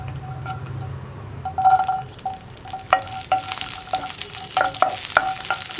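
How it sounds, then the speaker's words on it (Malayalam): Cashews and raisins stirred and frying in a pan for chakka pal payasam (jackfruit milk pudding), a soft steady sizzle with repeated scraping clinks of a spoon against the pan, close and alone without talk. "റൈസിൻസ് ഒന്ന് വേർത്ത് വരുന്നത് വരെ നമ്മൾ ഇളക്കി കൊടുക്കുക."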